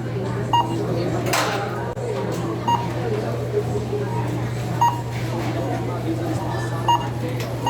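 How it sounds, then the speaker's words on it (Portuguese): A barcode scanner at a checkout counter beeps as a carton of milk is registered, reading two codes on the package. Short, sharp beeps recur about every two seconds, moderately loud over a steady hum and background murmur. "Ele dá 2 bips na hora que eu registro, passando os 2 códigos,"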